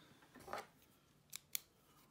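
Scissors snip through a salvaged backup camera tube in three quiet, sharp cuts, one slightly longer and then two quick clicks close together.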